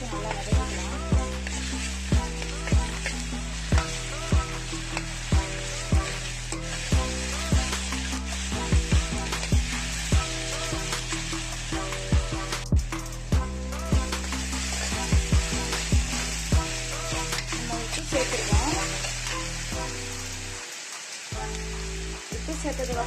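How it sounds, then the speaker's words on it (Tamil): Ginger garlic paste sautés in a hot pan while chicken uppu kari is being cooked, a steady close sizzle with crackling spatter and regular stirring scrapes throughout, briefly dropping out near the end. "இஞ்சி பூண்டு பேஸ்ட் சேர்த்து ஒரு நிமிஷம் நல்லா வதக்கிக்கலாம்."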